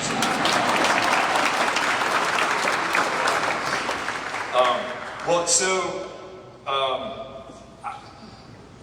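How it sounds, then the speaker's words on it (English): A crowd claps steadily after a prayer at a Georgia governor campaign event, loud and dense at first, then thinning into scattered claps with a few voices calling out near the end. "You can clap after a prayer, I guess."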